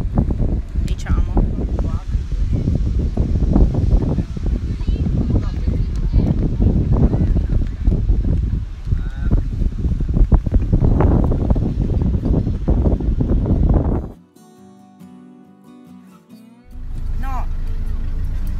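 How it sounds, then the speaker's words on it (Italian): Strong wind buffets the microphone on a beach, a loud continuous rumble for about fourteen seconds, then a brief lull before the gusts return; talk mixes in under the roar. "c'è un vento assurdo"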